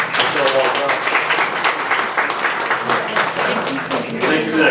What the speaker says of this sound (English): One more round of applause for Michelle Walton.